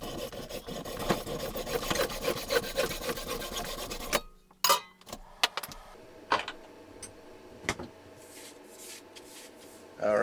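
Rapid rasping strokes of plumber's screen-mesh sandpaper, roughly 120 grit, scrubbing back and forth close up for about four seconds, followed by quieter scattered handling knocks.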